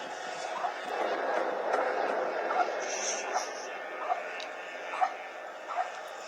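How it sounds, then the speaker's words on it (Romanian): Several dogs bark in short, spaced bursts at a distance, under steady background noise and occasional talking. "Câinii latră"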